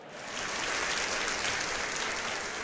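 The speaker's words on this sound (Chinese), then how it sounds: "丢的好的时候，观众就会给你拍手" Crowd applause in the unicycle sports game Unicycle Hero, a steady burst of dense clapping that swells in quickly and holds at an even level for a couple of seconds.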